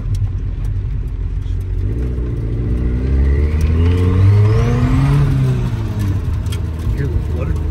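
A turbocharged 1995 Honda del Sol Si engine revs up and falls back, with a rising whine and a rapid flutter as the throttle lets off, loud and close, while people talk over it.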